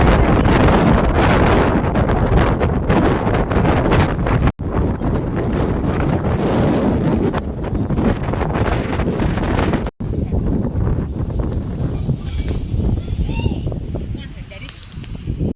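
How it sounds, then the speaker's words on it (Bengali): Strong wind roars across the microphone on a coastal cliff path at Durdle Door on the Jurassic Coast, a loud, continuous buffeting rush with only brief dropouts. "প্রচুর হাওয়া দিচ্ছে"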